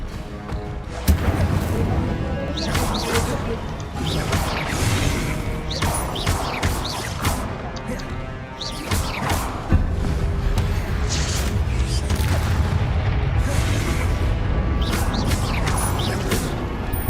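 Spell blasts and explosions from the Hogwarts Legacy video game crash and thump in rapid succession with whooshes, dense and continuous, while a player's voice calls out spell names over the action.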